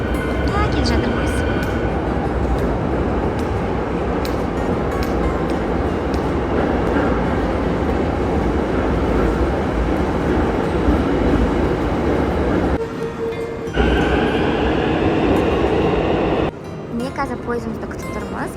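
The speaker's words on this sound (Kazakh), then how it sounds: "Келе жатыр пойыз." An Almaty metro train rolls into an underground station with a loud, sustained roar and rumble that fills the platform, ending in a brief quieter moment before the noise picks up again.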